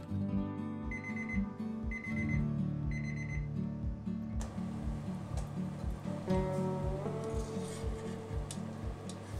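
A kitchen timer rings out with repeated electronic beeping pulses in an even rhythm, then continues over sizzling, frying sounds in the kitchen as chicken Scotch broth finishes cooking.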